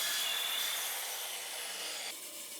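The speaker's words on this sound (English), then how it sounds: "I cut in very roughly on the bandsaw, a square up each end." A bandsaw cuts through a length of broom handle wood, a faint continuous hissing whine that holds steady and then eases slightly near the end, with no voices.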